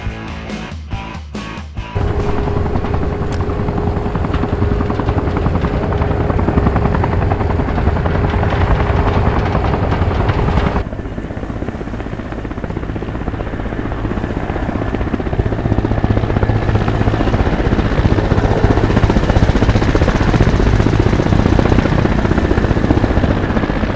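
A military helicopter in the combat game Arma Reforger drones steadily and close throughout, its rotor and turbine roar holding constant with a brief dip midway as it flies on.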